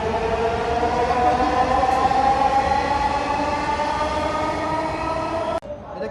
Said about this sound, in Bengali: এই যে মেট্রো রেল